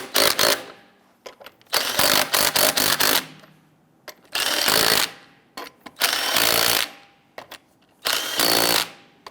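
Impact wrench snugging lug nuts onto a wheel of a 2011-2021 Jeep Grand Cherokee, heard as four loud, close bursts of rapid hammering separated by short pauses, with no talk.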